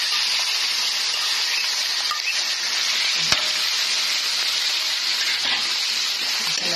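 Ground meat sizzles loudly with onions in a hot pan for spaghetti, a dense steady hiss with one sharp click partway through and no voices.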